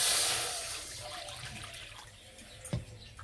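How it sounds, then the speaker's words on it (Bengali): Water splashes into a wok on a kitchen stove for boiling lentils, a brief, soft pouring rush that fades quickly, followed by a light clink. "কড়াই দেবো জল"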